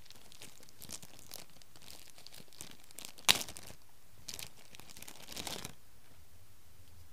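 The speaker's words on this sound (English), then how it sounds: "it's in a plastic bag, so let's open the bag up" Soft crinkling of thin plastic, with one sharp crackle in the middle and a few quieter rustles after, all close up and with no speech.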